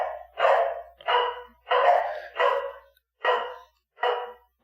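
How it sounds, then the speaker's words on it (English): Dogs bark indoors in a series of seven sharp, fairly close barks, spaced roughly half a second apart and sometimes paired, with silence between them and no talking. "my dogs are barking"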